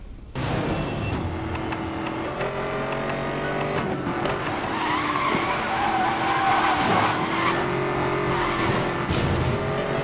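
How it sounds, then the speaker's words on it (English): A Chevrolet car drifting in Need for Speed: Most Wanted (2012), with loud sustained tire skidding and squealing over a steady engine roar for about ten seconds, close and continuous, with no talking. "Drifting a little too much there"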